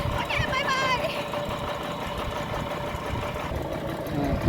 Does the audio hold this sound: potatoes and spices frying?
no